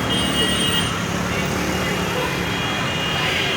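Busy road traffic streams around Indira Chowk circle in New Delhi on a Sunday, a loud, continuous rumble and hiss of passing cars, buses and trucks with no pauses.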